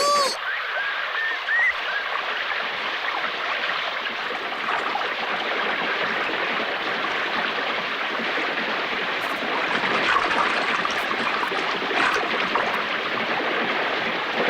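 Loud, continuous rush of a strong river current in a cartoon, a dense broadband roar that never lets up, with a voice faintly calling over it at the start.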